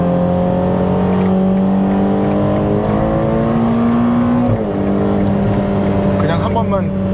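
Ferrari Portofino accelerating hard in sport mode, a loud sustained engine drone rising steadily in pitch, then dipping briefly at a gear change before climbing again, heard from inside the cabin.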